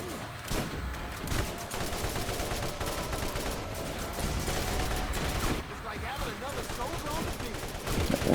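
Rapid gunfire in Borderlands, dense continuous bursts of shots and impacts running throughout at steady loudness, with someone talking over the shooting.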